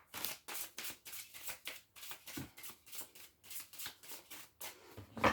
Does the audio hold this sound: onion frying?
no